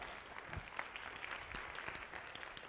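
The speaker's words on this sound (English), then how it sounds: "Give her a round of applause." Applause from a keynote conference audience, a faint, distant, even patter of clapping crowd throughout, with no voice rising above it.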